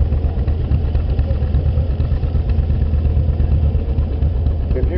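An antique tractor engine runs in a steam threshers parade, a loud, steady low chugging and clattering close by throughout, with outdoor background noise.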